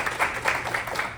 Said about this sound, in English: give a round of applause for you guys being here